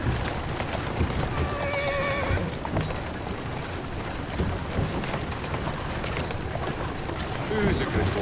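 In the game Assassin's Creed Syndicate, a horse drawing a carriage lets out a brief whinny over steady clip-clopping hooves and rolling wheels, with constant loud street noise and talk.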